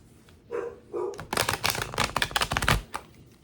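Two sharp dog barks ring out, followed by a rapid burst of clattering, tapping noises that continues for a couple of seconds before fading.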